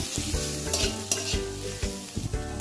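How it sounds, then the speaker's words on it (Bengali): Chopped onion frying with garlic in a hot pan, a loud continuous sizzle with spoon-stirring clatters and scrapes over a low steady hum. "পেঁয়াজটা ভালো করে ভেজে নিতে হবে।"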